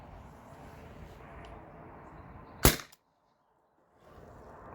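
A T4E TR68 HPA-powered air gun fires one round ball shot, a single sharp close crack that cuts off abruptly into silence amid quiet background noise.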